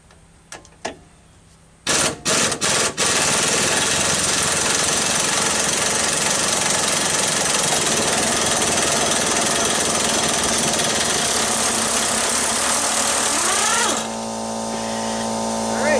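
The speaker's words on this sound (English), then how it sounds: "that compressor's quieter than my old one" A close air compressor running in a garage during repair on a 2003 Chevrolet Silverado, a loud continuous mechanical drone that starts abruptly after a few clicks and drops slightly in level near the end.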